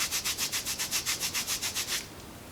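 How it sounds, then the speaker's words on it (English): Kinesiology tape being rubbed briskly onto an arm to set it while managing lymphedema: about a dozen quick, even back-and-forth strokes, close and fairly loud, then stopping to a quiet room. "Rub that in."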